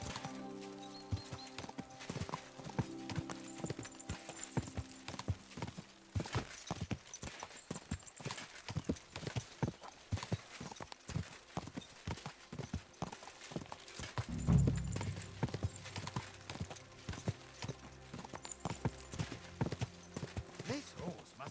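Steady, rhythmic clip-clop of horse hooves in the video game Kingdom Come: Deliverance 2 continues throughout at moderate distance, with a brief heavier thud midway.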